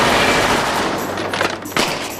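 Rapid bursts of gunfire from a small gun fill the clip, loud and continuous with a few sharper cracks near the end, no voices over it.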